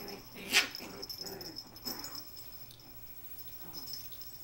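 Two dogs, a big young one and a tiny feisty one, wrestling and playing indoors, with a sharp bark or yelp early on and then soft growls and scuffling, fairly quiet throughout.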